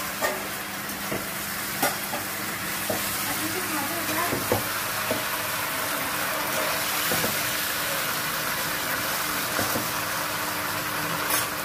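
Vegetable stalks frying with spices in a pan for Bengali shukto, a continuous close sizzle with occasional stirring clicks throughout.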